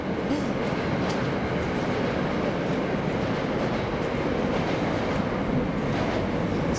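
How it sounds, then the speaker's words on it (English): Steady, loud rumbling roar of trains running below, near the abandoned Jerome Ave station in the Bronx, a continuous rail clatter with no pauses and no voices. "There's trains and stuff down here. Right below us, there's some trains."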